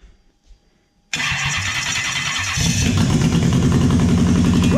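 A Toyota 1UZ-FE V8 engine running on only two cylinders with one igniter and no injectors cranks after a second of near silence, then catches and runs loud and rough with a dense, uneven pulsing.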